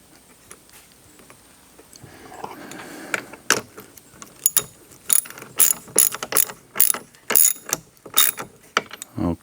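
A nut being tightened onto the blade of a 10-inch two-blade brush cutter with a ratchet, giving bursts of sharp, close clicking in an uneven rhythm after some quiet handling sounds.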